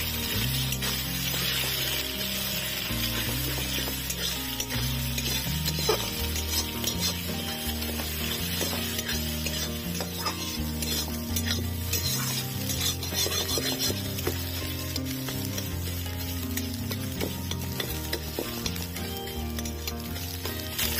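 Eggs scrambled and fried into bhujia with salt and ground pepper, a continuous crackling sizzle in the pan with scraping stirs, while background music plays throughout.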